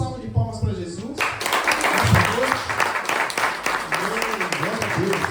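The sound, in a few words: church congregation applause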